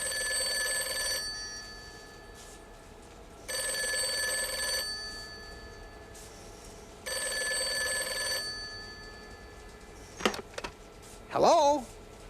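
A telephone bell rings in three separate bursts of about a second each, with quiet gaps between them. Two brief noises and a short voice-like sound follow at the end.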